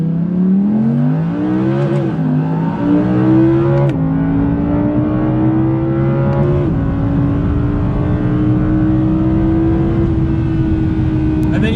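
Audi R8 V10 Performance driven hard, its V10 engine loud and close as it accelerates through rising revs with brief shift breaks, then settles into a sustained high-speed roar.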